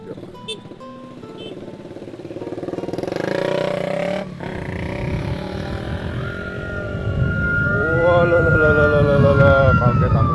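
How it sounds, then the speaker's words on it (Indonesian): A fire engine's siren wails through city traffic, rising and sweeping as it passes amid engine and road noise, with people talking nearby. "Ternyata ada pemadam kebakaran, kayak di sana."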